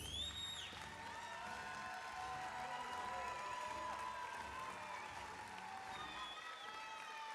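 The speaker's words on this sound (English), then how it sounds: "Let's give our fifth graders one more round of applause." Audience applause and cheering for fifth graders at an elementary school promotion ceremony, a steady wash of clapping mixed with crowd noise and whoops that runs for several seconds under background voices.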